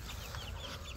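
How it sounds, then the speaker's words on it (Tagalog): Farm chicken clucking, kept together with a duck, heard as a brief burst of rapid clucks over a steady noisy outdoor background. "Manok tsaka bibi, magkasama na sila"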